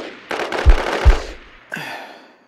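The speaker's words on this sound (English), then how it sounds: "I just hear them shooting like crazy" Enemy gunfire in Call of Duty: Advanced Warfare, with a loud burst of rapid shots and two heavy booming impacts, followed by a shorter volley that fades away.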